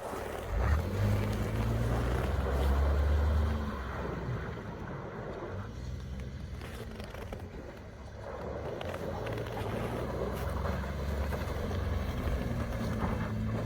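A 400-horsepower truck engine revs hard as the driver tries to spin a donut in snow on the Alcan Highway in January. It makes a continuous low, throaty rumble mixed with wind noise and rises and falls slightly.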